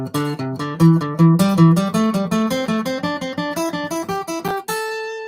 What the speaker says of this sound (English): A sequence, I might do it in a group of 3, which would sound like this.